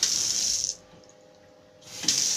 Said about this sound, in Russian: Вода, кстати, есть тут.